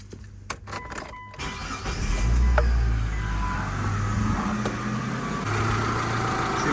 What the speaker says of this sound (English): Let's start the car, see how it sounds.